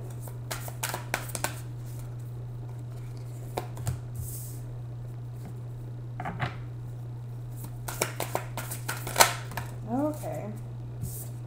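Tarot cards being shuffled and handled close by make quick papery riffles, flicks and soft taps in scattered clusters, over a constant low electrical hum.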